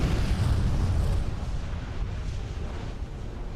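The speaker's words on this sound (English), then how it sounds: "At 5:30 a.m., the first of 4 cataclysmic explosions occurred on Krakatoa." The cataclysmic volcanic explosion on Krakatoa is a loud, deep, roaring rumble that is heaviest at first and then settles into a continuous churning roar.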